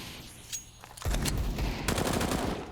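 Rapid gunfire in a competitive shooter match, a quiet stretch then dense bursts of close, loud shots in quick succession.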